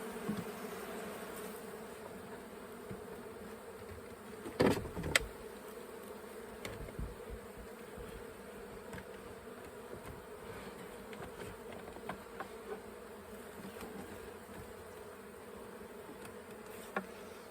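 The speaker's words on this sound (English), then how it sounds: "just to drive the bees inside" Honey bees hum around a hive being smoked and consolidated into two boxes, a steady low drone of many insects close by, with a few brief knocks and bumps, one louder, partway through.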